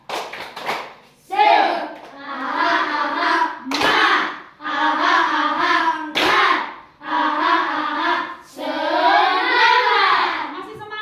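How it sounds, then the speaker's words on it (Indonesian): Schoolchildren in an Indonesian elementary classroom performing a rhythmic clapping cheer, bursts of chanting voices punctuated by sharp unison claps, close and lively. "Ayo buat tepuk semangat pimpin semua."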